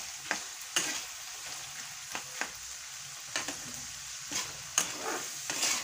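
Raw green chickpeas for a pickle are stirred in a sizzling pan, with a soft continuous fry broken by sharp, irregular spoon scrapes and taps against the metal.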